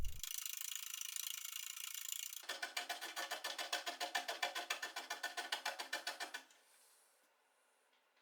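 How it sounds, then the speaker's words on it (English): A foot-powered scroll saw with a coarse pinned blade cuts wood. A steady rasp turns into a fast, even series of stroke-by-stroke cutting pulses, then fades to quiet near the end. "then cut it out on the scroll saw with a coarse pinned blade"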